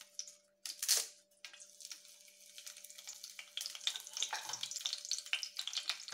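Bay leaf frying in a little oil in a pan for mushroom gravy, a soft steady sizzle with light stirring scrapes and a sharper clatter near the start, no talk.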